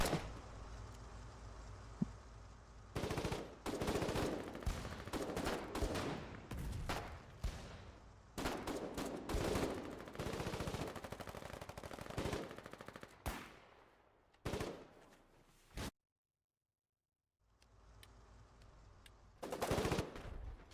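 Rapid bursts of shotgun fire in the war video game Foxhole, loud and close, coming in clustered volleys with brief pauses and one full silence before more shots resume.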